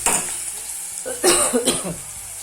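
Onion frying in oil in a home kitchen, a close hissing sizzle that swells briefly as it is stirred, with a couple of soft scraping bursts over a steady background.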